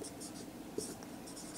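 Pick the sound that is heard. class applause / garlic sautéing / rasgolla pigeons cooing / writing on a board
writing on a board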